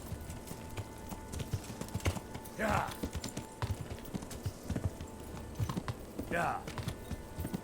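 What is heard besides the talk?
horse hooves clip-clop in video game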